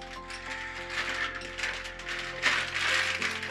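Two spanners from an Eplus CFX2 folding e-bike box are handled close by, giving continuous metallic clinking and rattling over a quiet indoor hum.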